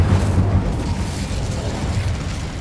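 Bombarda, an explosion spell in Hogwarts Legacy, sets off a heavy, booming blast with a deep low rumble that swells at the start, then rolls on loud and close for the rest.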